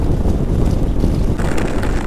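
Strong wind roars at night during a cloudburst on a highway in Uttar Pradesh, a loud, constant low rumble with buffeting against the microphone throughout.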